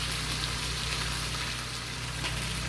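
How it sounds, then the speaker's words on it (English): Fish frying in hot oil in a pot, a steady, close crackling sizzle over a low background hum, continuous and without talk. "After fry well, we turn the fish to fry the other side."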